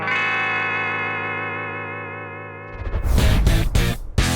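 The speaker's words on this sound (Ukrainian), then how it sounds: "Двоточковий тремолбрідж працює плавно і точно повертає стрій після будь-яких вібрато." A Toneberg TEIB-500 electric guitar rings out a sustained, wavering chord bent with its two-point tremolo bridge vibrato, then breaks into loud, distorted strummed chords with sharp accents.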